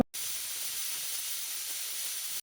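A pressure cooker of mixed dal vents steam in one continuous, steady hiss, close and fairly loud, starting abruptly and cutting off cleanly after about two seconds, with no voices.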